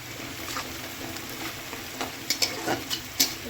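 Onions browning in a pan for a home-cooked chicken curry, a steady close sizzle with occasional stirring scrapes and clatters toward the end; no talking.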